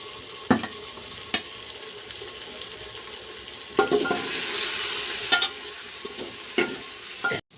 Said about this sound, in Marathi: त्याच्यानंतर टाकायची आपल्याला शिमला मिरची, जी आपण कापून घेतलेली होती अशी लंबी